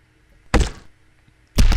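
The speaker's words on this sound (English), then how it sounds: "That sounded like blood spurting and, possibly someone banging their head quite violently." Two heavy thuds from the horror video game Corpse Party, a dull impact like a head banging violently amid blood spurting, each a loud, brief low-pitched blow about a second apart against a quiet background.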